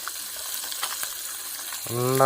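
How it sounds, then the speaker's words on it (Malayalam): River fish sizzles and crackles steadily in hot oil at a campsite in the rain, close by, with a tonal clatter or voice-like sound rising near the end. "പുഴമീൻ കിടന്ന് പൊട്ടിത്തെറിക്കണ കണ്ട."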